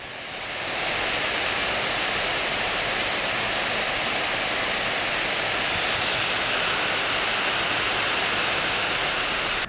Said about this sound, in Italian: attiva la rotazione massima delle ventole, e sentite un po' che razza di casino